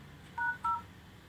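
Two crisp phone keypad dial tones beep in quick succession while a code is typed on a Xiaomi Android phone, clear and close against a quiet background.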